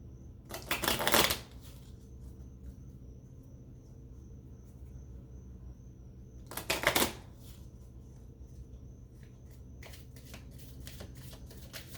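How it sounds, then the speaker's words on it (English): Tarot cards are riffled in two short, crisp bursts a few seconds apart, with lighter flicks and clicks as single cards are drawn near the end, all close and otherwise quiet. "I'm going to pull a few cards from here."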